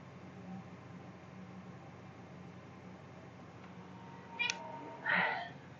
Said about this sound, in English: try and find out if you can hear my cat